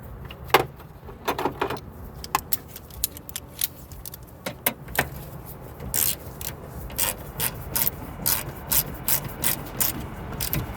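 Ratchet clicking in rapid bursts while a 10 mm bolt is tightened during an alternator replacement on a 2015 Honda Odyssey 3.5, with metallic rattles and short pauses between strokes, close and fairly clear.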